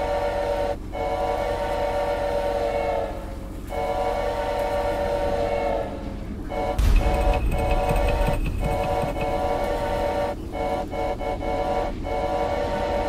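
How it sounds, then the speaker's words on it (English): Train running in the video game Choo-Choo Charles: a steady rolling rumble of wheels and carriage noise throughout, with a horn or whistle-like tonal sound and louder clatter bursts midway, no talking. "So we're gonna ride the train backwards."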